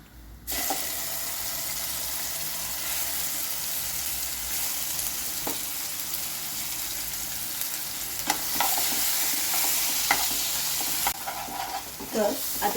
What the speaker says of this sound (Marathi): कढीपत्ता आणि लगेच जो आपण मसाला वाटला होता तो टाकायचा आहे